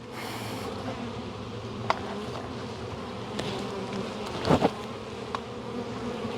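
Honeybees hum at an open hive during a spring inspection, a dense steady buzz close to the microphone with individual bees droning past and a few brief knocks.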